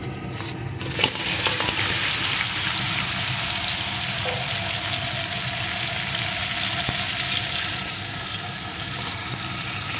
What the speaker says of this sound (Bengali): এখন লবণ হলুদ মাখানো কাঁকড়াগুলোকে এই তেলের ভিতরে দিয়ে ভেজে নেব।